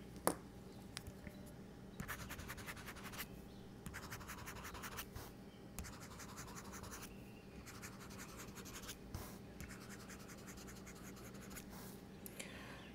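A reMarkable Marker Plus stylus scratches across the screen of a reMarkable 2 tablet, making quiet, dry bursts of scratching in short writing strokes with small pauses between them. It is close and faint, with no talking.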